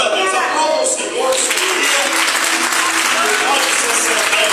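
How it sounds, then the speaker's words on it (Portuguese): Church congregation applauding in a loud, dense, continuous wash of clapping that fills the whole stretch, with voices mixed in. "Aplauda o Senhor"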